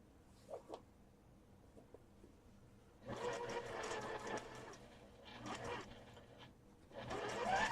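Sewing machine stitching a quilt block seam, quiet at first with a few small handling taps, then bursts of close mechanical whirring starting and stopping in short runs.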